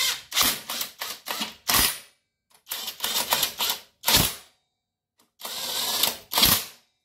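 Bolts being tightened with a ratchet or impact-type tool on the CVT cover of a Yamaha Aerox 155 scooter, heard as repeated bursts of sharp mechanical clicking and rattling separated by short pauses, close and fairly loud with no talking.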